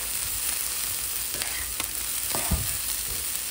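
Close spatula scrapes and knocks against a pan as corn seasoned with salt and chili powder is stirred, over a soft continuous sizzle of frying.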